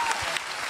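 Audience applause at a campus singing contest, a brief even burst of clapping from a crowd, moderately loud and unbroken.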